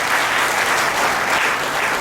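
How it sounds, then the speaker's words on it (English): A large audience claps steadily at a prize night for coaching-class students, honouring a top-ranked student; dense, even applause fills the space throughout without pause. "A big round of applause for Siddharth."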